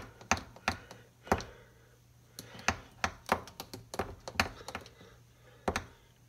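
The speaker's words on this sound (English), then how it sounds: "I'm going to give it a little stir." A milkshake stirred in a glass, a series of sharp close taps and clinks in an irregular rhythm, some in quick clusters, over a low quiet hum.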